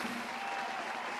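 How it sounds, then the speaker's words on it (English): Steady applause sound effect playing on a podcast, a dense, even patter of many clapping hands, moderately quiet, with no talk over it. "Clap."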